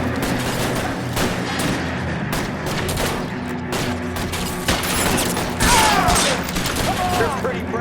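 Rapid gunfire in a shootout in the video game L.A. Noire: dense, continuous bursts of shots with louder cracks near the end, mixed with voices talking.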